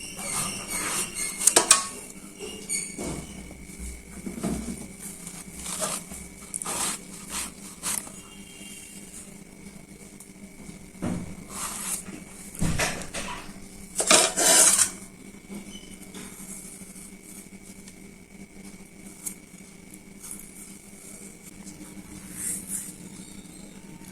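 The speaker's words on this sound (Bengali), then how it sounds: "এখন কচি জালিটা কেটে কুটে নিচ্ছি।" Young white pumpkin being cut and chopped with a knife for pakoras: close, irregular taps, clicks and scrapes scattered across a quiet background, with a few sharper knocks and no voices.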